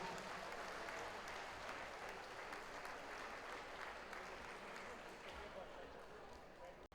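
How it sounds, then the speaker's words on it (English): An audience at a British Open and British Classic darts final applauds the youth finalists, a sustained, fairly faint wash of clapping that fades slightly toward the end. "please keep the applause going"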